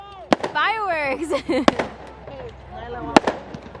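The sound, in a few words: Canada Day fireworks exploding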